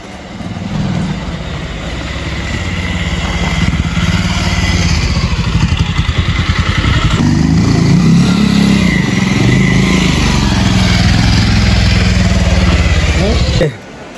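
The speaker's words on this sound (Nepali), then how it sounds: "हाम्रो बाइक चाहिँ बाटो अलिक बिग्रा भएर उताबाट आउँदैछ" A motorbike engine drones loud and close on a damaged, rough road in Chunbang, Rukum, holding a steady throaty rumble with some clatter before cutting off abruptly near the end.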